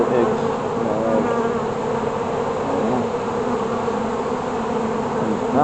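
Honeybees buzz loudly and continuously during a beehive inspection, a dense close drone with wavering pitches from many bees around the open hive.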